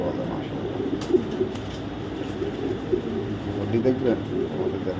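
Racing pigeons, some of them young and of foreign breeds, coo steadily in a low murmur over a loft, while someone talks over them throughout.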